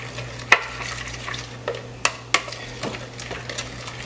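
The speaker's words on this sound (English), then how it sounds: "now we're gonna mix it" Seasoned steak for beef jerky tossed and mixed in a bowl, with several sharp clinks and wet stirring sounds at irregular intervals over a low background hum, close by and without speech.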